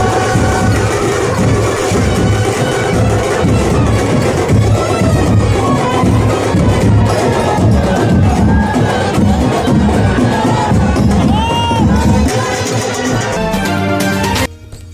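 A large crowd at a Thane temple celebration cheers and shouts in jubilation, loud and sustained from start to finish, with a brief pause near the end.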